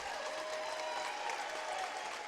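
A basketball crowd in a college gym gives a warm round of applause, a dense even wash of clapping heard from a distance, steady and moderately faint throughout.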